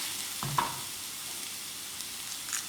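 Onion, garlic and chopped carrot sauté in a pan with a soft, steady sizzle, broken by a couple of brief scraping stirs near the start and end; no talking.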